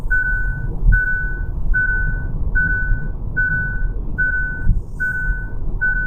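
A driver-assist warning chime in a Hyundai dings repeatedly at an even pace, about eight clear electronic tones in a row, loud over a low road rumble inside the cabin.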